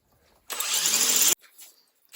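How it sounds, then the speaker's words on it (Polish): A power drill with a 4 mm bit bores into a hard, stubborn bolt on a Honda Transalp 650 rally motorcycle, one short close whirring burst of under a second set between quiet gaps. "Zmieniłem wiertło na 4. Chyba jest trochę ostre i idzie pomału."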